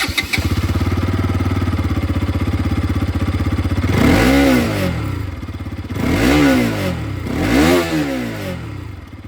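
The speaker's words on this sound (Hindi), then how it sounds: "और अब मैं आप लोगों को यहाँ पर पल्सर की आवाज़ सुना दूँ" A Bajaj Pulsar NS200 motorcycle idles close and loud with a fast, even exhaust beat, then is revved three times, each rev rising to a snarl and falling back, with no voices.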